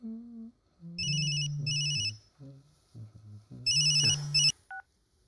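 A telephone ring on a children's history game show, a playful electronic ringtone with tinkling bell bursts over a bouncy tune, fairly loud and clear with no speech.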